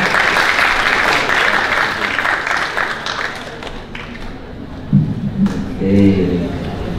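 At a public health science festival, an audience applauds a speaker called to the podium, steady clapping that tapers off, followed by footsteps and voices near the microphone.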